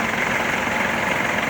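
A Kubota L-205 mini tractor's engine idles evenly and softly, a steady continuous running drone at constant loudness with no voices over it.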